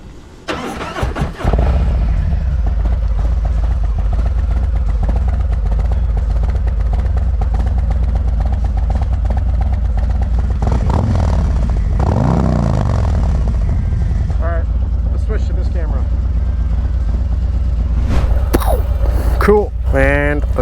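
A 2023 Harley-Davidson Street Glide ST with a 135ci engine starts with a few sharp cranks, then settles into a loud, deep, steady idle close by, with a rising rev near the middle and brief talk late on.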